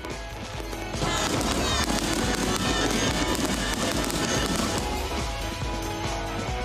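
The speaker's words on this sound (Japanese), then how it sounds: "夜空を彩る一万発の花火に大きな歓声が上がりました" Fireworks burst and crackle densely and continuously, a loud overlapping barrage of pops and bangs that kicks in after a brief quieter start, at a ten-thousand-shot fireworks festival at Ocean Expo Park, Okinawa, with a cheering crowd.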